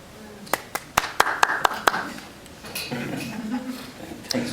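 After a poem at a poetry reading, a handful of sharp, separate claps ring out in a loose rhythm, followed by murmuring voices and one or two last claps.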